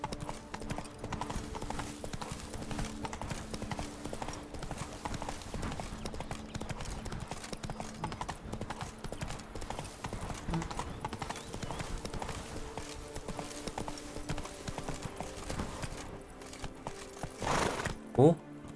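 Hoofbeats of a horse galloping in a video game ride a steady, continuous clip-clop rhythm throughout, with a brief whinny near the end and a voice speaking at times.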